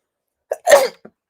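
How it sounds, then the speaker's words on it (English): A single loud, close sneeze with a sharp intake of breath before it and a small exhale after, in otherwise silence. "Oh, that was a huge sneeze."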